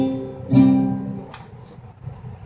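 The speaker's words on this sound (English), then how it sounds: "the plucking pattern I'm using is just root." An acoustic guitar fitted with a capo is plucked chord by chord, starting on the root string, with a bright strum that rings out and fades, then a few softer string touches, close and alone.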